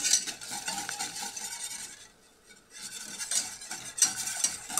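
A cornstarch mixture being stirred in a pot for an apple cake, with continuous close scraping and swishing strokes, a brief pause midway, then more stirring with light metallic clinks.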